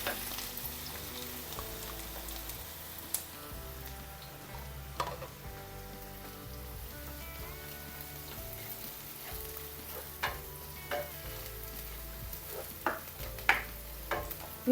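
Finely chopped onion frying steadily in a pan for a drumstick and capsicum curry, a continuous close sizzle with occasional ticks and crackles throughout, no talking.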